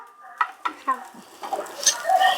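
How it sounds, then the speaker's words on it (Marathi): Cluster beans dry-roast in a hot pan, sizzling with a few sharp scraping stirs and crackles, close and fairly quiet. "आता आपली इथं गवार पण भाजून झाली"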